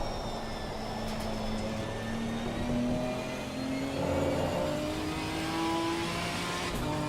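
A Ginetta GT4 race car engine in Assetto Corsa Competizione, racing at Kyalami, drones steadily at high revs, rising and falling through gear changes as it accelerates, loud and continuous for about seven seconds.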